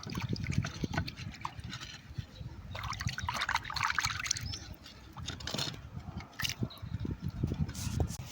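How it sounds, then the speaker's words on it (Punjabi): Water pours and splashes while a pigeons' drinking vessel is rinsed, a continuous close trickle and slosh with uneven gushes throughout, no speech. "ਦੇਖੋ ਮਿੱਤਰੋ ਕਿਵੇਂ ਪਾਣੀ ਪੈਂਦਾ ਇਹਨੂੰ"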